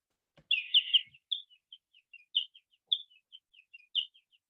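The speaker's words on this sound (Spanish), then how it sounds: "De ahí está aislado el sonido del pájaro" Bird chirping with low sounds filtered out, a clear burst of high twittering followed by a string of short sharp chirps at uneven intervals, isolated against silence.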